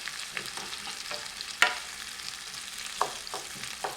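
Chopped carrots and onions sautéing in a pan, a gentle steady sizzle broken by a few sharp scrapes and taps of a utensil stirring, close up and quiet, with no talking.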